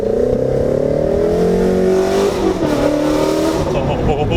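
A Ford GT350 with full bolt-on log tube headers, exhaust and E85 tune accelerating hard: loud, close engine roar with rising tones through the gears, filling the whole stretch.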